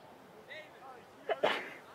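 A single sharp sneeze bursts out at close range during a boys' high school soccer match broadcast, brief and forceful against quiet background chatter.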